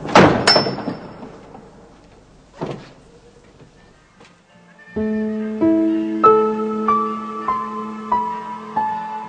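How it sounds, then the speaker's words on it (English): Heavy doors of the Church of the Holy Sepulchre in Jerusalem shut with loud wooden thuds and a latch clank, then a sustained tolling of church bells swells in layered ringing notes. "The doors of the Holy Sepulchre are locked for the night."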